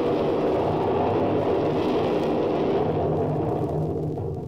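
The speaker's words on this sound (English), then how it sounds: "that is thunder" A deep, rolling rumble of thunder from an approaching storm, staged as a vintage radio drama sound effect, loud and sustained before slowly fading, with no voices over it.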